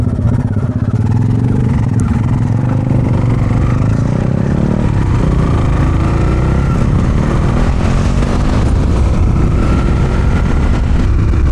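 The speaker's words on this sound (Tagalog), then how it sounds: "Umaangal-ngal din yung makina pagka ahon eh" Honda TMX125 or Kawasaki Barako 175 motorcycle with a small sprocket straining uphill, a loud, steady, labouring engine drone with rattly clatter heard close up throughout.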